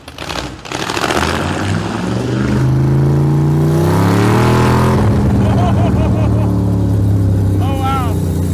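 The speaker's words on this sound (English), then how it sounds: "That's good burnouts." A 1955 Chevy Bel Air engine revs hard and holds a loud, rising roar during a burnout, close and continuous, with people talking over it.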